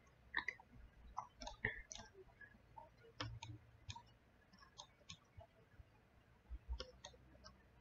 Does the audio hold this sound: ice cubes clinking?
no